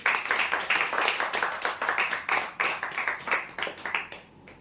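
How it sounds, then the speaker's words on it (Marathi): A crowd at a prize draw clapping together in a dense, lively burst that fades out at the end. "जोरदार टाळ्या होत्या यासाठी"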